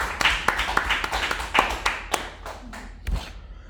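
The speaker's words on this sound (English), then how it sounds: "I want you guys to give yourselves a round of applause" A small class of coding students gives themselves a round of applause: a scattered series of distinct, nearby hand claps with uneven rhythm that thins out and fades toward the end.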